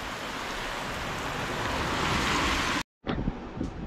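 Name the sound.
rain falling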